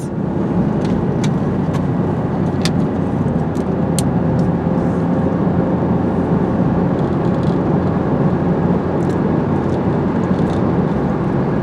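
Steady road traffic with cars passing nearby, a continuous broadband rumble with brief higher whooshes and no talking.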